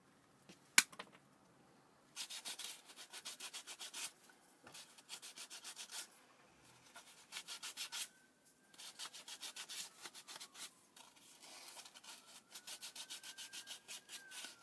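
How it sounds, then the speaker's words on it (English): Sandpaper rubbed by hand over a cut-out piece for a Terminator T800 arm prop, a rapid rhythmic scratching in repeated bursts with short pauses, close and fairly quiet, preceded by a sharp click. "I managed to cut this out, sanded it all off"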